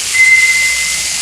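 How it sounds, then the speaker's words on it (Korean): Water poured into a hot frying pan of stir-fried noodles gives a loud, steady, breathy hiss of sizzling steam with a brief whistling edge at the start, filling the whole moment. "이제 물을 좀 부어줘야 되거든요."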